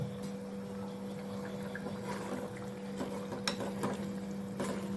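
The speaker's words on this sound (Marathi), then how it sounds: "आता एक उकळी थोडीशी घेऊ का झालं." Agri-style Bombay duck curry with tamarind pulp comes to a gentle boil in a pot, giving a steady low bubbling hiss with a few faint clinks and no talk.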